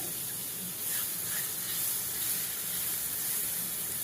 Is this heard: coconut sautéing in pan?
yes